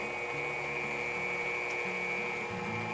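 Stand mixer creaming Crisco shortening for a Kentucky stack cake batter, a steady close motor whine with a shifting low hum that runs continuously throughout, no voices.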